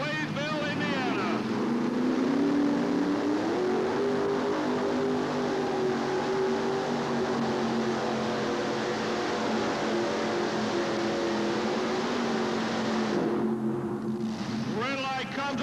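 A Chevrolet pulling tractor roars loudly at a 1988 tractor pull in Charlotte, its engine droning steadily with pitch rising and holding, continuous and close, while an announcer talks over it.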